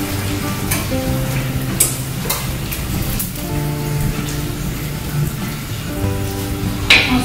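Seasoned ground meat for lasagna being stirred in a hot pan, with a steady crackling sizzle and occasional scrapes of the spoon, while low tonal hums come and go underneath.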